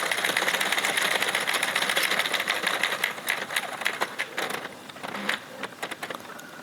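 An Addi or Sentro circular knitting machine is cranked through one more round with yarn, giving a rapid steady clicking and whirring rattle that slows and turns into separate clicks, close and loud.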